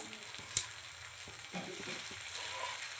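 An omelette frying in a pan gives a faint, steady hiss with a sharp clink near the start and a few soft scraping knocks, heard close and quiet.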